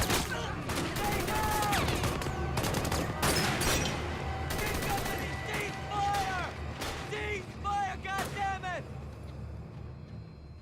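Heavy crossfire from rifles and machine guns in a WWII Pacific battle on Okinawa: dense, overlapping bursts and sharp cracks, with shouting voices and whistling sounds mixed into the chaotic firefight.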